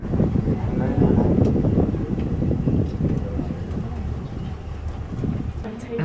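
Wind buffets a swaying cable car high above Rio de Janeiro, a steady low roaring rumble that swells and eases while people talk nearby.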